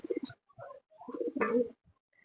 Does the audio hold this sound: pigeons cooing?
yes